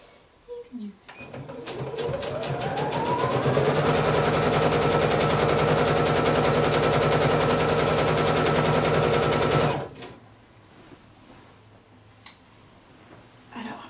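A sewing machine stitching bias binding onto a small kimono runs steadily for about eight seconds at a fast, even whir after spinning up, then stops, with brief quiet talk before and after.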